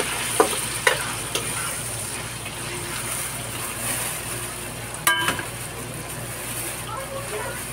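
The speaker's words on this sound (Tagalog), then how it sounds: "gigisa ko na tong chicken" Chicken sautéing in a pan for a ginataang chicken dish: a steady, faint sizzle runs throughout, broken by a few sharp clinks of a utensil stirring against the pan.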